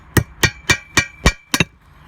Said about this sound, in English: I'm gonna take the ball peen hammer. I'm gonna go right in this groove. I'm gonna tap that back in.